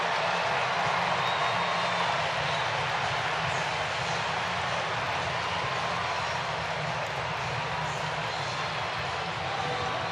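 Dense, roaring crowd noise from an Atlanta Braves baseball game against the Washington Nationals, a loud continuous wash of cheering that holds steady throughout.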